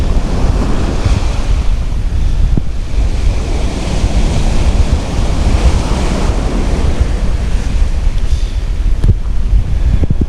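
Steady roar of surf breaking on the beach at Saltwick Bay, overlaid with strong wind buffeting the microphone, loud and continuous with no voices.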